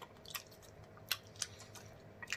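Soft, close-up chewing of mashed potatoes with gravy and smothered pork chops, with faint wet squishes and a few small sharp mouth sounds, quiet and without talk.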